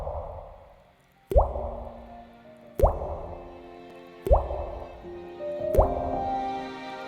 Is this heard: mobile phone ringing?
no